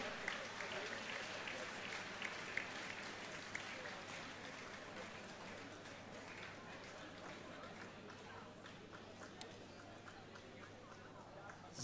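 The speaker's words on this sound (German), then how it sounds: "geben Sie den Kämpfern den verdienten Applaus" A crowd at a combat-sports fight night applauds the fighters, a steady wash of clapping and cheering mixed with crowd chatter over a low electrical hum, heard from a distance for the whole stretch.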